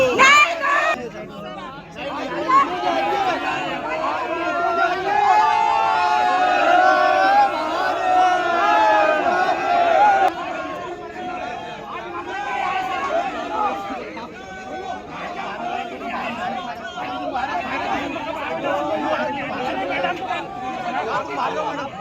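Dense crowd chatter and overlapping voices at a Shiv Sena (Uddhav Balasaheb Thackeray faction) protest march at the DRM office in Nagpur, a steady loud hubbub with shouting voices throughout.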